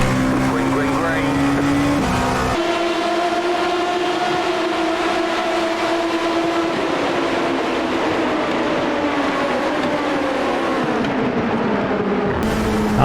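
Dallara P217 prototype race car lapping Suzuka in iRacing, a loud continuous engine drone whose pitch climbs and falls through gear changes, with a sharp shift near the start, steady and close throughout.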